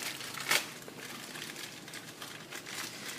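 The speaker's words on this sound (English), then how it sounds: "It's in the plastic bag that comes in it." Plastic packaging bag around a new Denso oxygen sensor for a Toyota Camry, crinkled up close in a few soft rustling bursts, the sharpest one near the start, then quieter handling noise.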